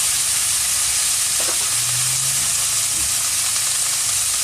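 Eggplant and beans frying in a pan, a constant loud hiss and sizzle with faint stirring and light bubbling underneath, close and unbroken.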